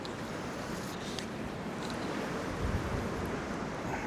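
Steady wind buffeting outdoors beside the River Tweed, a continuous broadband rush with low rumbling gusts, loud and unbroken throughout.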